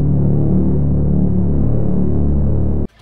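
Simple ambient drone music for space-themed gameplay, a dense low sustained hum with slow throbbing layers played loud and steady for nearly three seconds before cutting off abruptly.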